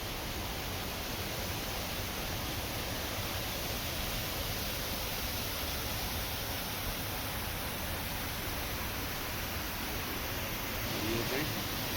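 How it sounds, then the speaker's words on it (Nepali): A Himalayan mountain stream flowing down from Dudh Kunda lake, a constant broadband rush of water that is faint and steady throughout, with no talking. "दुध कुण्डबाट आएको खोला हो।"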